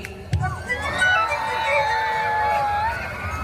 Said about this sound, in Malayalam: ഉഷാറായിട്ടൊന്ന് കൂവിക്കേ.